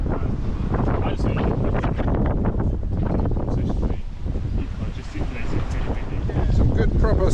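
A sailboat under way at about 7.5 knots across Lyme Bay, hull cutting through the water in a steady wind, with loud continuous wind buffeting the microphone and rushing water throughout.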